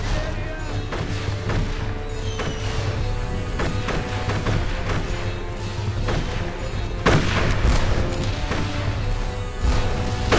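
Rifle shots crack repeatedly amid a steady battlefield din in the video game Darkest of Days, sharp irregular reports over constant background rumble, no talk.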